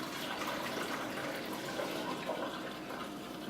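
Hot water poured out of a cooking pot into a sink, a soft, steady splashing gush that is faint and continuous.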